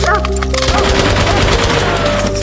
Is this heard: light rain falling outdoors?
no